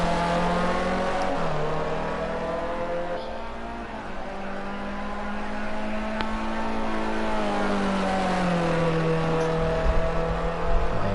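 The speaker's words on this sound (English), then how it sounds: "And we see Denny Bin Lahar also coming onto his flying lap now" Race car engine from a PS4 racing game on a flying qualifying lap, revs climbing and falling through gear changes and corners, a steady, moderately loud engine note with no voices over it.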